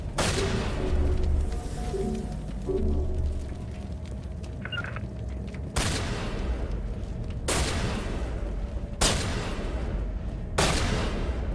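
Gunfire in Mass Effect Legendary Edition lands as several heavy, booming shots at irregular intervals over a steady background of combat noise, loud and close.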